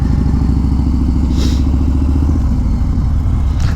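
A 2021 Harley-Davidson Street Bob 114 rides along with a loud, steady low engine rumble and wind, close to the rider, with a couple of brief higher rushes and no talk.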